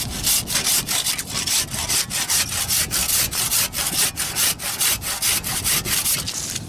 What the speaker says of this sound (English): Let's go sawing.